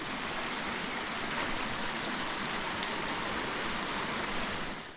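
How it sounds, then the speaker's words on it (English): Rushing water from Duelle Creek and its waterfall in the Utah hills, a steady loud broadband roar that fills the whole stretch without a break. "I see the waterfall."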